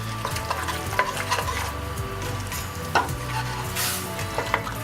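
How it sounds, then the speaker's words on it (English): Turkey chili with beans, tomatoes and a spice packet stirred in a pot: repeated scraping strokes over a constant low sizzle, close and fairly quiet, with no talk. "and stir it up"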